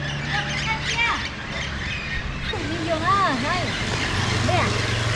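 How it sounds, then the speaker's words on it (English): A flock of green parrots squawking in a tree in Costa Rica, repeated harsh calls overlapping at moderate distance, with people talking over a steady background hum. "All those birds up there squawking are green parrots."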